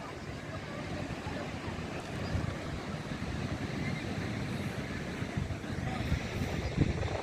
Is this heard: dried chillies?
no